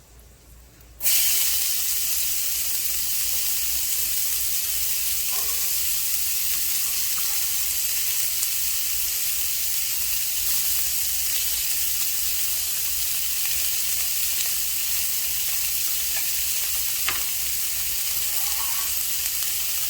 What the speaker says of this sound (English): And then we're gonna add our onions, our scallions, and our jalapeños. We're just gonna saute it up a little bit.